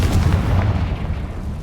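Confringo blasting spell cast in Hogwarts Legacy, a loud booming blast with a rumbling tail that fades over under two seconds.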